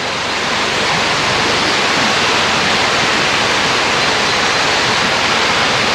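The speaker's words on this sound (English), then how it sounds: "meandering its way down there and off to the reservoir" Water rushing steadily down a stream toward a reservoir, a loud, continuous broadband wash that holds unchanged throughout.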